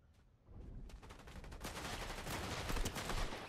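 Assault rifle fire from a Fortnite match rattles out in dense rapid bursts that grow louder and more continuous, layered with other shots and game effects.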